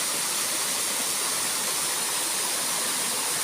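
A waterfall in the hills near Ban Huai Huat roars as a constant, dense hiss of falling water, close and loud, with no break and no voices.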